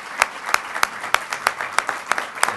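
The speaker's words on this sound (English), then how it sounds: "I'm going to have to ask you to clap again" An audience at an anniversary celebration applauds, with loud, close claps landing in a brisk, uneven rhythm throughout.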